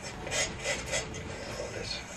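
A painting knife scraping paint off a canvas in a Bob Ross-style landscape, a few rhythmic raspy strokes, close and fairly quiet.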